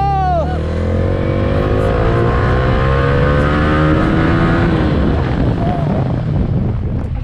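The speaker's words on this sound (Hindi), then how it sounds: "मैं कभी ऐसे पब्लिक में फुल थ्रॉटल खींचता नहीं हूँ" A motorcycle ridden on public roads in Dehradun, held at full throttle: loud, sustained engine roar with rising revs and heavy wind buffeting over the whole stretch.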